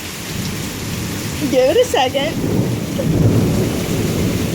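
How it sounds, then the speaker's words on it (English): Hail and heavy rain pelt surfaces during a summer thunderstorm, a steady dense patter with a voice speaking briefly near the start. "I can't believe there's hail."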